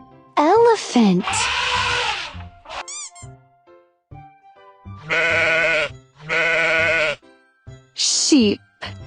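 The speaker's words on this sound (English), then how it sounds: "Sheep." Sheep bleat in a series of loud, wavering calls, several of them long and sustained, with short spoken words between the bleats.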